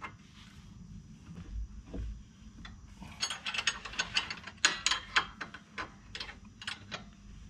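A ratchet wrench clicks in quick uneven strokes while loosening a car suspension bolt on a Nissan V36 Skyline, fairly close and alone with no talking.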